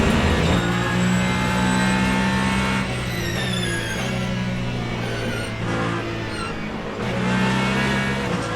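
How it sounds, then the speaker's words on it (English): Loud Ferrari race car engine in the Le Mans Ultimate racing game at Interlagos, sustained harmonic drone shifting pitch as it brakes and downshifts, with a squealing edge, close and continuous throughout. "Loud, squeaky Ferrari under braking."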